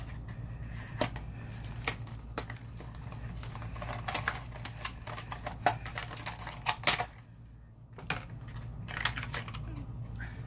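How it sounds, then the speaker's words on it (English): A small taped-shut lipstick case is opened up close, with rapid light clicks, taps and plastic rustling that come in uneven bursts, including a brief quieter pause. "It's taped on, but I'll open it up for you guys."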